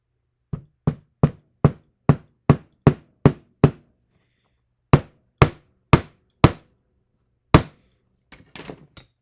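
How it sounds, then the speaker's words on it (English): A ball peen hammer driving small brass nails while making a stock whip, heard as a close, loud run of sharp taps in a quick steady rhythm, a pause, another burst of strikes, then a rattle. "take these little brass nails, cut that off, take my ball peen hammer"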